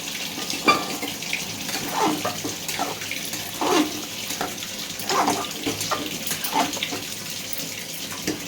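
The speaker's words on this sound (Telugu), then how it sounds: "అంతా వాటర్ వేసి మూత పెట్టేస్తే ఇంకా ఇదిగోండి వాటర్" Water poured into a cooking pot of split moong dal and bottle gourd curry, a continuous splashing gush with uneven surges, close by and fairly loud, no talking.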